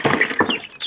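Young chickens, some hens and some roosters too young to tell apart, cluck close by in short bursts of three or four calls with brief squeaky notes between. No voices.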